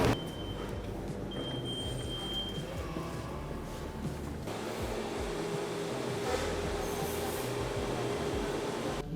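Steady low rumble and whir of a public transit train heading to Vancouver airport, a continuous mid-level roar with a faint whine, no talking.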